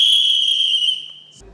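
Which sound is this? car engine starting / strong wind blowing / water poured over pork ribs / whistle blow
whistle blow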